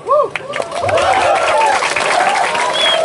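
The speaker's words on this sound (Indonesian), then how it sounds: "tepuk tangan dong" An audience at a Balinese comedy show at Pura Dalem Agung in Bangli claps and cheers for a female ugal player in a gamelan. Scattered clapping mixes with whoops and raised voices, lively and fairly close.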